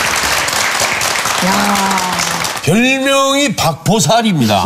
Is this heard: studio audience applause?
yes